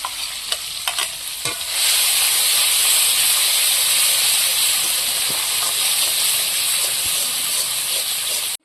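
A ground onion and green chili paste hits a hot pan for an egg shahi korma. After a few spoon clinks comes a sudden loud sizzle that keeps hissing steadily, close and without talk.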